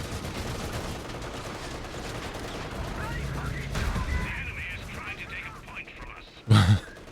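Units in the video game Company of Heroes 3 exchange gunfire in bursts and scattered shots. The firing sits under a player's talk, and one loud, close blast comes near the end.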